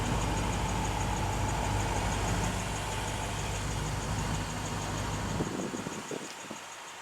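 A 2015 Lexus RC F idles through its stacked stainless steel quad exhaust, giving a steady low rumble that holds evenly and then thins near the end, with no voices.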